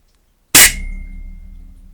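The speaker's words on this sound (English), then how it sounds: "there's a heck of a ping, a ringing after the shot" An air rifle, a Black Ops Langley sniper, fires one sharp, loud shot close by, and a metallic ping from the spring rings on after it and fades slowly.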